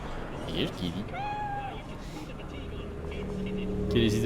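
A cat in the video game Cyberpunk 2077 gives a single clear meow amid city ambience, with a person talking briefly around it.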